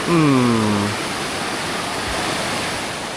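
A river rushes beneath a small pedestrian footbridge near a village in Colombia, a steady broadband roar of flowing water. It is loud and continuous, with a short voiced tone in the opening second.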